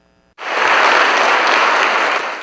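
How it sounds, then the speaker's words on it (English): A crowd applauds at a Honda headquarters celebration in Torrance marking a motorcycle production milestone, steady dense clapping that starts suddenly and holds loud and even to the end. "A round of applause to Honda for their major milestone."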